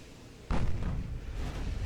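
A warship's front gun turrets fire in the naval battle game Ultimate Admiral Dreadnoughts, one sudden heavy boom followed by a rolling rumble that fades slowly.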